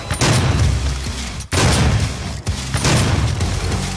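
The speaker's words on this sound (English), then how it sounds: "just gotta keep shooting and killing" Shotgun blasts in the video game Doom, loud and booming, with three heavy shots in a row, each followed by a sustained rumble that fills the gap before the next.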